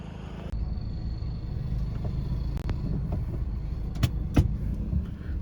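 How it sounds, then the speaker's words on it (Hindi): A zero-star NCAP-rated car being driven makes a steady low interior road rumble with engine hum, a few soft clicks and knocks, and light wind noise. "अभी जो है हम चला रहे हैं यहाँ पे 0 स्टार रेटेड कार"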